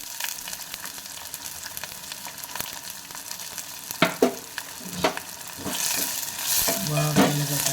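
Buttermilk curry stirred in a pan over a low flame: a continuous sizzle under repeated scraping strokes of a spoon, with the bubbling and stirring growing louder and busier toward the end, close up with no speech.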